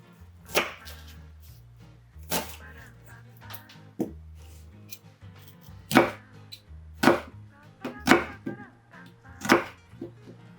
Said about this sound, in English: take 100 grams of onion and cut it into rough wedges